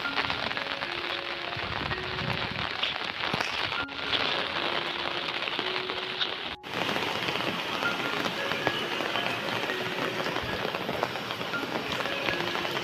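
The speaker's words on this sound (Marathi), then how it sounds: "हा बघा पाऊस आपल्याकडचा कोकणाकडे पाऊस" Heavy monsoon rain in Konkan pours steadily on surfaces, a dense continuous hiss with scattered drops, unbroken by any voices.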